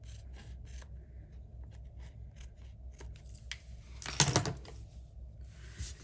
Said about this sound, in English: Let me get my scissors here and cut that extra off.